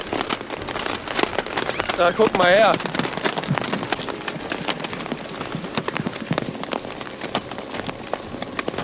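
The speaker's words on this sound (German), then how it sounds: "Ich hoffe, man hört's, aber es hagelt und zwar richtig." Large hailstones drum on a tent in dense, irregular sharp taps that keep going throughout, close and loud, while people talk briefly over them.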